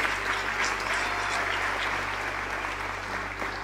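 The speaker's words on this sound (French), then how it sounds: "ça vaut une bonne main d'applaudissements pour la mairesse, son conseil de ville, le comité organisateur." A crowd claps at a volunteers' ball, a broad, continuous burst of applause from many hands over a steady low hum, sustained without talk for the whole stretch.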